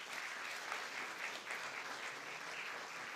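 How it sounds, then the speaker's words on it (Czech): Audience applause at a short film festival, a steady wash of clapping heard from a distance and fairly faint, sustained without a break for a few seconds. "Pavel Trnka, zatleskejte mu."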